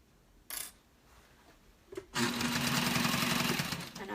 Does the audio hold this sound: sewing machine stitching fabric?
yes